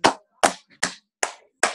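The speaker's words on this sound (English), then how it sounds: "Let's clap for Brother Gabriel" Five slow, separate hand claps at a children's church service, evenly spaced and close, each one sharp and alone with silence between.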